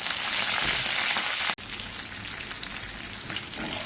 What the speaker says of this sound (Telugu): ఇలా పచ్చిమిర్చి వేగిన తర్వాత